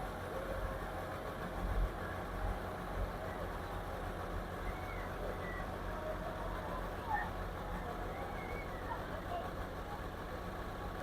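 A tractor engine runs steadily in a wet, muddy field where a machine is stuck, a low continuous rumble with faint voices in the background throughout.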